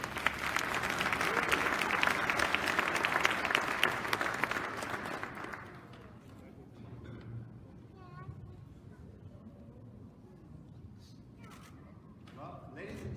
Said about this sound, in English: Ladies and gentlemen, a nice round of applause for Dr.